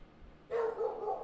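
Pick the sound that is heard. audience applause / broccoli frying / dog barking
dog barking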